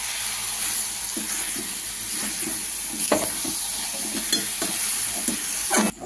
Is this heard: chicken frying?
yes